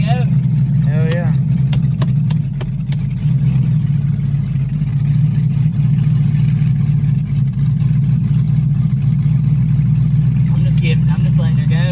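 A warm 5.3 LS V8 runs in a car with a deep, steady low rumble and a few revs, loud and close throughout, while a person talks over it.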